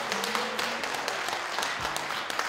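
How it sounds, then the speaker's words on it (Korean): Audience at a Korean civic policy contest event applauding, a steady patter of many hands clapping briefly, fairly close and moderately loud. "시민사회 강의자분들이 이 정도 박수와 함성을 치신 건 대단한 겁니다."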